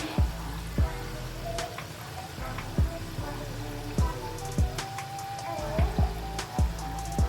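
Murukku fries in hot oil with a continuous bubbling sizzle, broken by sharp, fairly regular pops and crackles about every half second.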